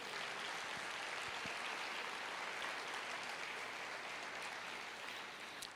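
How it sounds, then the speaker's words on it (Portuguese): A church congregation applauding, heard as a faint, even wash of distant clapping that holds steady for several seconds before tapering slightly. "Você pode dar uma salva de palmas para Deus?"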